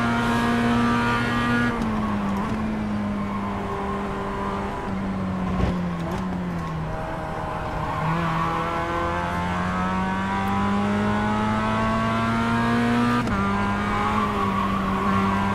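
At Snetterton, a Mazda MX-5 race car runs at full throttle: a loud, sustained engine drone with shifting pitch, brief dips around gear changes and a sharp click midway, and no voices over it.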